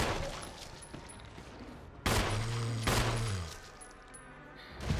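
Gunfire in the video game Resident Evil 1, two loud, sharp shots spaced under a second apart, each ringing out with a long tonal echo over quieter ambient game sound.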